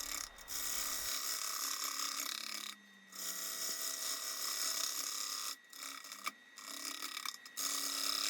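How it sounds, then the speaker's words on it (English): A gouge makes a steady, interrupted cut through a wooden crotch piece spinning on a lathe, a quiet continuous hiss broken by several short gaps. "just a nice steady gouge movement through that area should do a good"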